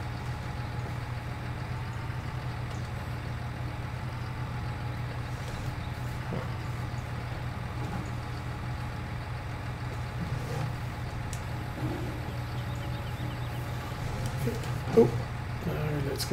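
Low, steady tractor engine hum from Farming Simulator 19, idling and running evenly in the background while someone talks over it.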